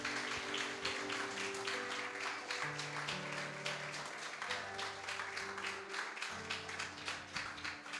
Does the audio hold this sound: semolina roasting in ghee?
no